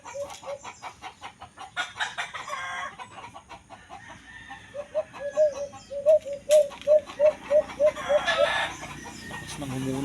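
A pet alimokon dove in Silang, Cavite, calls repeatedly in a quick, regular series of short notes, fairly close, with other chirps and some clucking in the background.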